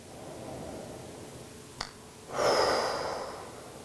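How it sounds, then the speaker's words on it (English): Deep breaths taken during a calm breathing exercise: a single sharp inhale is followed by a long, close, airy exhale that gradually fades. "take a few breaths"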